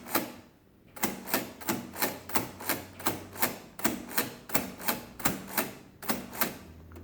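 Keys on a Comptometer Model J mechanical calculator being pressed, a steady run of about a dozen sharp mechanical clacks at a regular rhythm, close and fairly quiet.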